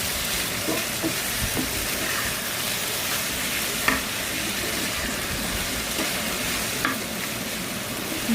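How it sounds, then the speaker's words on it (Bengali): Sliced potatoes frying with spices in a pan, a steady bright sizzle with soft scraping and occasional clinks as they are stirred, close and continuous throughout. "এই তো কিছুক্ষণ পর পর নেড়ে দিচ্ছিলাম।"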